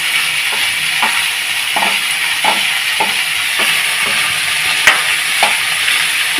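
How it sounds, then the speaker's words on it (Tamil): Bitter gourd sautéing in hot oil, a steady loud sizzle with periodic scraping strokes of a spatula stirring the pan, heard up close. "ஒரு அஞ்சு நிமிஷம் வதங்கட்டும் பாவக்காய்"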